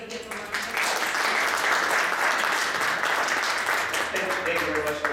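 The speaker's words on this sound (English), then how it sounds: "Everybody give him a round of applause." Sustained applause from a workshop audience, steady and full from the start, with a few voices murmuring underneath as it fades toward the end.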